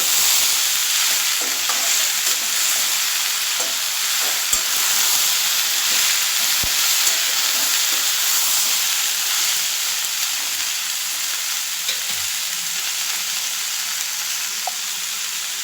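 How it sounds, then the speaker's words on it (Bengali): Flat beans (shim) fry in a pan, a loud, dense, steady sizzle close up with occasional soft stirring knocks and no talking. "দেখুন বন্ধুরা এটা বেশ একটু ভাজা ভাজা হয়েছে"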